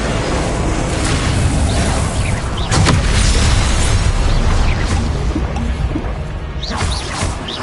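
Incendio and Confringo spells exploding in Hogwarts Legacy make a continuous loud roar of booms and fiery bursts, with one sharper crack near the middle and no letup.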